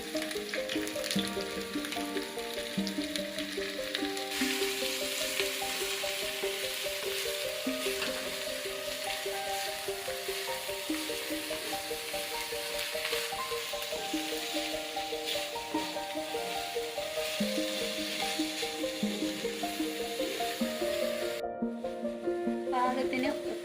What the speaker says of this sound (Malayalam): നമുക്ക് അതിലോട്ട് സവാള ഇട്ട് കൊടുക്കും.